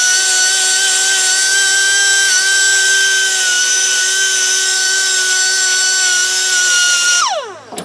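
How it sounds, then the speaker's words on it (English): A die grinder runs steadily with a bright high whine, lightly cleaning the hub seat on a 2003 Chevy Suburban during front hub replacement, then spins down in a falling pitch at the end. "lightly clean this off with this it's not angle grinder, this is a die grinder"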